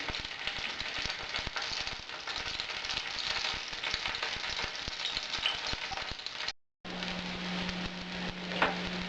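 Wheat groat meatballs frying in a pan make a dense, continuous sizzle and crackle, loud and close, broken by a brief silent gap before the sizzling resumes.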